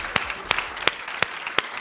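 A TV studio audience at a Hindi political debate show claps for two opening batsmen, a sparse round of applause with five or six distinct sharp claps standing out at a regular pace over a quieter clapping bed.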